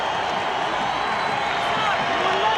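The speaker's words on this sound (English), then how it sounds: "And the crowd comes alive." Spectators in a basketball arena at a 1995 Bulls–SuperSonics NBA game send up a steady, swelling roar that fills the space as a broad wash of noise, with a commentator talking over it.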